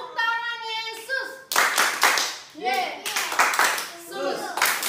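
Children in a Sunday school song clap in short bursts, sharp rhythmic hand claps alternating with sung or chanted voices close by.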